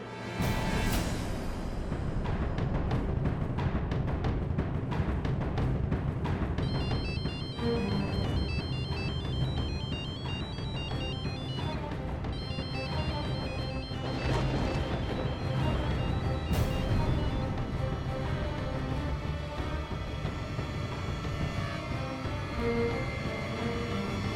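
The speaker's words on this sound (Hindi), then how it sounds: "मोक्ष फोन नहीं उठा रहा है ना?" A telephone rings on and on without being answered, its repeated electronic ringtone sitting over a dense, steady bed of music and background sound in a televised Hindi devotional drama.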